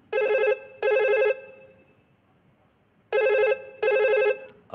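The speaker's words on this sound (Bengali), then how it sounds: "আবার ফোন।" An old-style telephone rings loudly in a quiet room during a Bengali drama, two paired bursts of ringing separated by a long silent pause.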